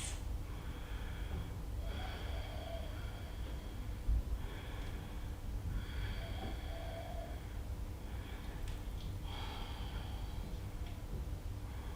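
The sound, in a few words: deep breathing during a yoga reverse plank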